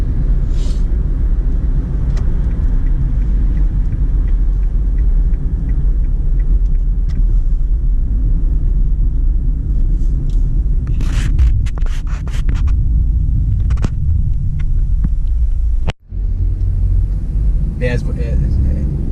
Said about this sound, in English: Wait for these two cars to pass me up.